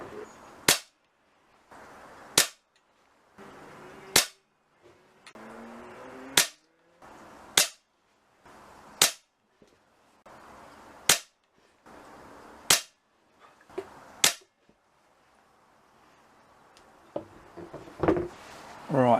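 An AGS PCR1 PCP air rifle, ten years old with a replaced hammer spring, fires 15.9 grain Sovereign pellets: about a dozen sharp, loud cracks at steady intervals of roughly a second and a half, with quiet handling noise between.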